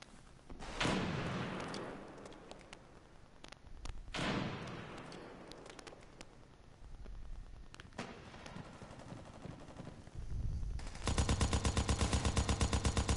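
Video game gunfire on a PS4, with heavy bursts and single blasts early on, then a rapid, loud machine-gun rattle firing continuously at the end, no talk over it.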